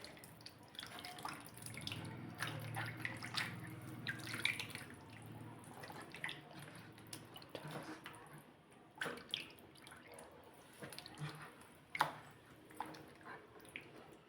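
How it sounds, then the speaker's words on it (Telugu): Tamarind juice poured over raw fish pieces for a masala fish curry makes faint wet trickling and dripping sounds with soft squishes and occasional splashes, quiet and close. "ఈ చింతపండు పులుసుని ఈ ముక్కలు బాగా మునిగేదాకా పోసుకుందాము"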